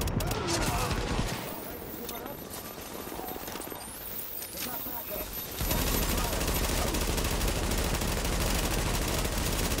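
Gunfire in the video game Tom Clancy's The Division, aimed at a boss: dense, rapid automatic shooting that eases briefly, then returns as sustained fire.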